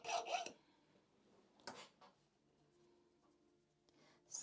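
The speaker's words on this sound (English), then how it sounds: "I'm just trying to sit comfortably and file" A hand file rasps across a board in a couple of short scraping bursts, close and quiet, with softer rubbing and near-silence between strokes.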